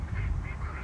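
Several ducks quack in spawning season outdoors near water and a bridge in Germany, a busy, steady chorus of overlapping calls heard up close with no talking.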